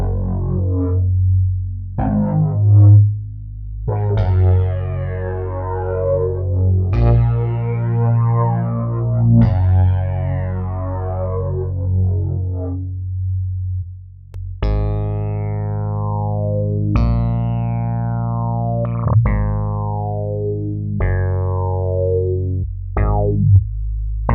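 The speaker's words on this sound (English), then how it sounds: "this is how you would do a envelope for the filter using LFO1 instead" A buzzy tone from the King of Digital iOS synthesizer repeatedly sweeps as LFO1 drives its filter, brightness opening and closing in a steady pulsing pattern, with notes retriggering and fading like one-shot envelopes.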